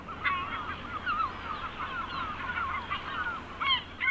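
Gulls, yellow-legged and Audouin's, call repeatedly along the Sardinian coast, a series of sharp, honking cries at moderate distance over a steady background rush.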